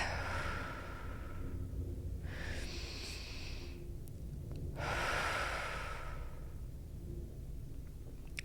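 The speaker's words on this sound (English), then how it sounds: "Take a deep breath." Slow deep breathing, two long airy inhales and exhales close to the microphone over a quiet low background hum, with no speech.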